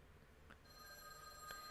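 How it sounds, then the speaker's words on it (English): A telephone rings in the visual novel Witch on the Holy Night, a faint electronic bell tone over a quiet background hum, starting partway in and holding steady. "The phone rang."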